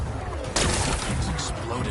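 Explosions blasting away rocks in Horizon Forbidden West, a loud sudden burst of rumbling, crackling debris that stays dense and noisy after the initial blast.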